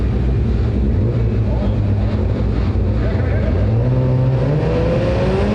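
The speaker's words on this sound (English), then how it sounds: "And you hear these cars on the limiter in the dry." Rallycross cars bounce off their rev limiters on a dry track at the start of qualifying at the 2019 FIA World Rallycross of Sweden, a loud, continuous, rasping engine drone with shifting pitch under a commentator's voice.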